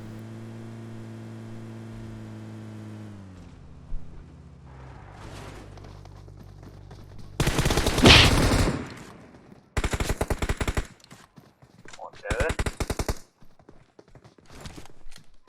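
Automatic gunfire in PUBG Mobile: loud bursts of rapid shots around 8 seconds, then several more short volleys from about 10 to 13 seconds, over quieter game ambience and engine hum.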